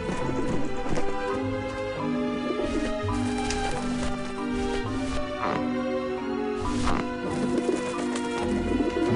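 Birds flap and coo in the adventure video game Grim Fandango, layered over a busy, continuous game soundtrack with rhythmic clopping, moderately loud throughout and without speech.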